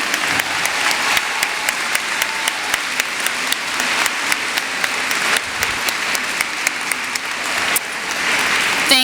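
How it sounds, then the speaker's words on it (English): An audience at a university commencement convocation applauding standing faculty, staff and alumni: loud, sustained clapping from a large crowd in a hall, with sharper individual claps popping out of the continuous roar. "so that we may give you all a round of applause"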